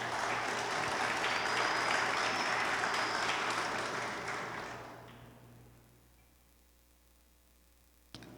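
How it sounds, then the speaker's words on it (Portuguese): A church congregation applauds Jesus, dense sustained clapping that fills the room for about five seconds before fading away into quiet hum. "Aplauda a Jesus,"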